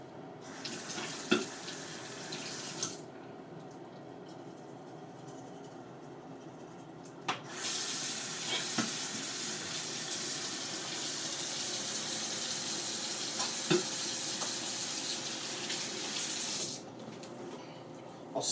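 A bathroom tap runs into the sink while someone brushes their teeth, a steady close hiss of water that cuts off briefly and then starts again, with small clinks and knocks over it.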